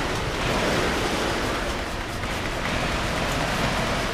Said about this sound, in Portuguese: Credo, tá chovendo demais.